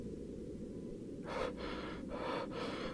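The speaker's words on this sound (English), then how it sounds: "My breathing comes in short, shallow rasps" Short, shallow, rasping breaths come in a steady rhythm of four quick pulls of air over a constant low background hum, close and fairly faint, with no talking.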